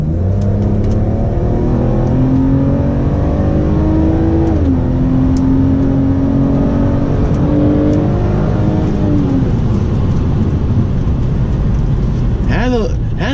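A 2004 BMW E46 330i ZHP revs hard at full throttle in sport mode at low speed, its engine note climbing steadily, dipping briefly, then rising again, loud and continuous under road and cabin noise.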